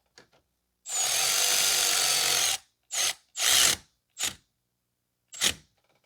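Power tool tightening a part on a 2005 Toyota Corolla 1.8 during water pump replacement: one long whirring run of about two seconds, then four short bursts separated by silence.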